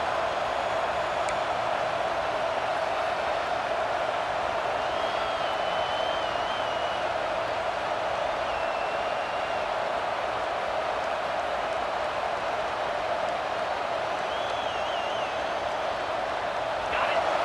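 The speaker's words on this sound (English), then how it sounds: "This crowd, full throat, splitting the eardrums and letting them know it's going to be a long day." A roaring stadium crowd in the EA Sports College Football 26 video game, a steady wash of cheering and noise filling the whole stretch, with a commentator talking over it.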